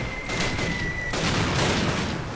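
Rapid bursts of machine gun fire in Call of Duty, a fast stuttering rattle with overlapping shots and a brief high tone, loud and continuous.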